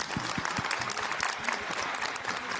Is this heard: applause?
yes